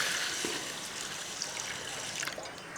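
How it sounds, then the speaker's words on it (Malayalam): Water pours steadily over lentils being washed, a continuous close splashing and trickling stream that lasts the whole stretch without pause. "ഇനി നമുക്കിത് വെള്ളം ഒഴിച്ച് കഴുകിയെടുക്കും"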